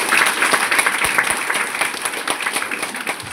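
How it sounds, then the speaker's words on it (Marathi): Audience applause with dense, steady clapping from a crowd, lasting the full few seconds at an even, moderately loud level with no talk over it. "यांच्यासाठी छानशी टाळी वाजली पाहिजे."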